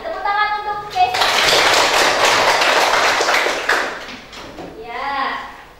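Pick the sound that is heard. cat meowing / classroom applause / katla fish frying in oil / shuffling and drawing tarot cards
classroom applause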